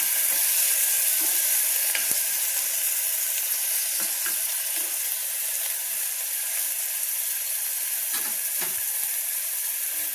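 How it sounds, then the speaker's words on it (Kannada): Garlic and masala frying in a pan for foxtail millet pulao, a loud close hiss of hot oil that holds steady throughout, broken by occasional scraping ticks of a spatula stirring. "ಅದನ್ನು ಕೂಡ ಚೆನ್ನಾಗಿ ಫ್ರೈ ಮಾಡಬೇಕು ಸ್ವಲ್ಪ ಅಲ್ಲ ಬೆಳ್ಳುಳ್ಳಿ ಮಿಕ್ಸ್ ಮಾಡಿ ನೋಡಿ ಫ್ರೈ ಮಾಡಬೇಕು"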